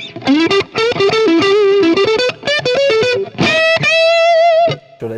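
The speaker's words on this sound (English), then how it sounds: "so that's like kind of crunchy, amp-ish distortion" An electric guitar with crunchy, amp-style distortion plays a quick run of notes, then rings out on a long sustained chord before fading.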